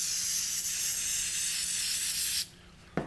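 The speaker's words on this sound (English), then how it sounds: "And then spray your activator onto the green tape." CA glue activator sprays onto green tape in a steady, close hiss for over two seconds, cutting off abruptly, followed by a single short spritz.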